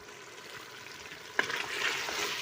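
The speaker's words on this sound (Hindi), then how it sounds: "अब इसे हम तेज़ आंच पे इसकी भुनाई करेंगे" Eggplant and potatoes fry over high heat in a pan, a constant close sizzle with a sharp clatter of stirring midway, after which the frying grows a little louder and brighter; no one speaks.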